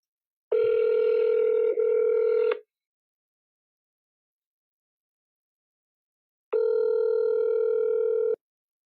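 Telephone ringback tone on an outgoing call, two loud steady two-second rings separated by a long silent gap, heard alone.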